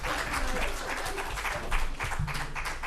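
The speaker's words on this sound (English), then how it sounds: "Now you can applaud." Audience applause at a school committee meeting after a motion fails, steady dense clapping throughout from a moderate-sized crowd, with faint voices underneath.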